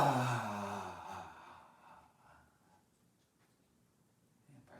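A slow, audible breath in and out during a gentle movement class, one long airy exhale that fades to near silence, with a faint rustle at the very end.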